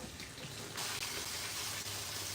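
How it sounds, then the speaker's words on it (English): Cold tap water runs steadily over drained canned beans in a colander, a continuous soft splashing rush at close range with no voices. "I'm draining and rinsing my beans, I'm running them with cold water"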